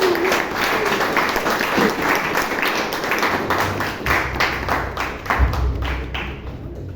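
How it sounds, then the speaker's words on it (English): An audience at a Toastmasters meeting in Bangalore claps in a round of applause, dense and continuous at first, then thinning into scattered individual claps and a few thumps near the end. "Can I have a round of applause?"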